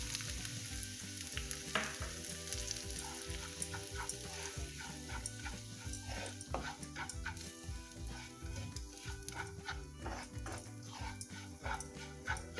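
Semolina dry-roasting in a pan for semiya idli, giving a steady close frying sizzle with scraping and stirring clatter throughout, ginger and green chilli already in the pan.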